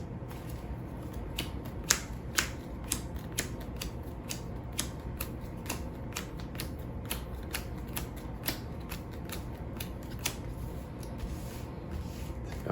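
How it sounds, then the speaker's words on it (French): Playing cards being reshuffled during a tabletop racing game, a run of crisp, regular riffling snaps and clicks repeating close by for several seconds, with no talking. "Alors je remélange mes cartes."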